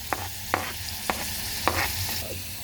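Tomatoes going into a frying pan for ghatyachi bhaji, sizzling steadily while a spoon scrapes and stirs in four evenly spaced strokes, close up with no talk.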